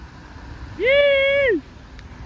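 A car engine revs once, rising sharply, holding a steady high whine for most of a second, then dropping back, close by over quiet background.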